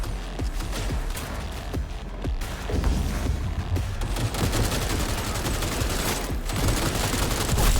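Dense, rapid gunfire rattles almost nonstop through a Cyberpunk 2077 firefight, with loud overlapping bursts and heavy impacts filling the whole stretch.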